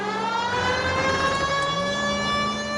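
Police car siren in the LA Noire video game, a steady wailing tone that holds and slowly shifts pitch, continuous and moderately loud over a low engine hum.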